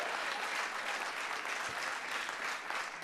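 Steady audience applause at a comedy stand-up show, a dense wash of clapping from a crowd that holds evenly throughout with no talk over it.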